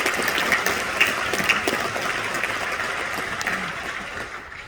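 A large crowd at a fire department recruit class graduation in Lexington, Kentucky applauds steadily, a dense wash of clapping that slowly fades over several seconds.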